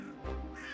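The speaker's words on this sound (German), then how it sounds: "Was ist denn mit den Vögeln hier los?" Birds caw in the Bavarian countryside of the video game A Bavarian Tale, with a single short, harsh call standing out against a quiet background.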